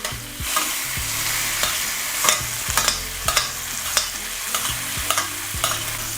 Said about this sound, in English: Just gonna start basting the lamb chops, alright?